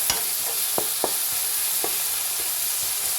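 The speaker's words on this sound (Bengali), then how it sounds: "ভালো করে লাল করে পেঁয়াজগুলো ভাজতে হবে" Onions frying in a pan until browned, a continuous hiss of sizzling with several sharp clicks and taps of a spoon against the pan while stirring, close and without talk.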